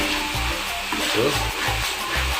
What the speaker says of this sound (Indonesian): Tumis sampai aroma wanginya naik ya.